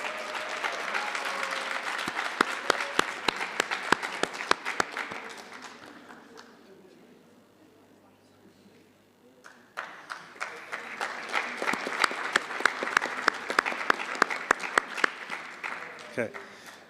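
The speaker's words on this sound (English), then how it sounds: "Please give them all a round of applause" Audience applause at a Pan African Mathematics Olympiad award ceremony, a full crowd clapping with sharp individual claps on top, fading to near quiet midway before a second strong burst, with voices talking through it.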